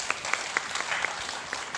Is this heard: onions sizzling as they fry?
no